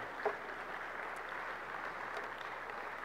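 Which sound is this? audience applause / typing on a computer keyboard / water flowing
audience applause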